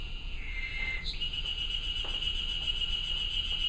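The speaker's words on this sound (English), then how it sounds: "Right, cicadas." A cicada song recording plays during a seminar, a sustained high buzzing trill that shifts pitch once early on and then holds steady and loud to the end, with no voices over it.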